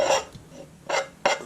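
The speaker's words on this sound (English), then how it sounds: "5 cloves of garlic, grated" Garlic cloves are grated against a grater, heard as three close, raspy scraping strokes, each short and rough, with brief pauses between them and no voices.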